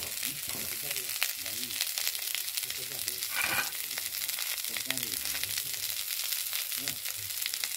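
Potato pieces frying in hot oil in a home kitchen for a daliya recipe, a continuous bright sizzle with scattered splattering pops and a few louder crackling bursts, moderately quiet and steady.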